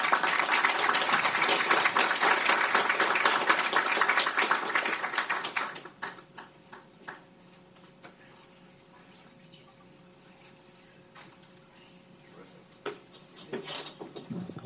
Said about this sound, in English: can we give another round of applause to Chris?